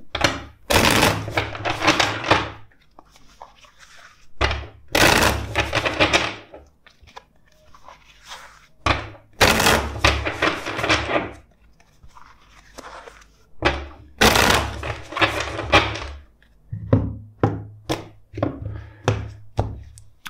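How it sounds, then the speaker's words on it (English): A tarot card deck is shuffled four times in a row: four loud, crisp riffling bursts, each a couple of seconds long, separated by softer taps and handling of the cards. "First, let's shuffle the deck four times for you."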